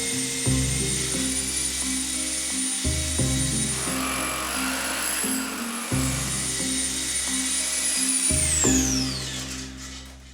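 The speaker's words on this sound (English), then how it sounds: "has the back-breaking task of drilling through the super thick" A loud power drill whines and grinds in long bursts separated by short pauses, boring steadily through a super thick masonry farmhouse wall up close.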